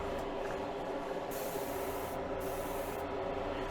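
Aerosol spray painting of a Buick car part: a steady, close hiss runs continuously for a few seconds in short bursts with no talking.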